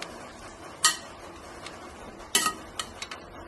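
A spoon stirring spinach and potato curry in a pan, with two sharp clinks against the metal and a few softer taps and scrapes, close and otherwise quiet.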